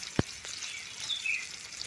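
Vegetables fry in a pan on a gas stove while browning for a pumpkin, potato and chickpea curry, making a faint, soft sizzle with one brief sharp tick near the start and no talking.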